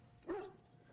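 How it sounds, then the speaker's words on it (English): A single short, quiet bark from an excited dog in the video game Dragon Age: Origins, a brief yip rising and falling within half a second against a near-silent background. "Bounces around you, barking excitedly."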